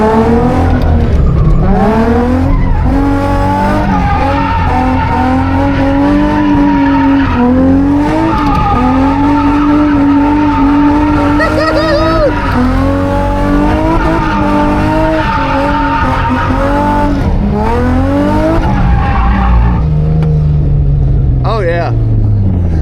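A car drifts with tires skidding and squealing in long sliding bursts under a loud, rising and falling engine, while people talk over it throughout.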